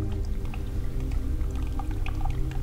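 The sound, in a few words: water running down a wall in an abandoned subway tunnel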